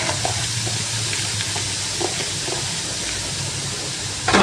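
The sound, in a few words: bean sprouts being stirred and fried in a pan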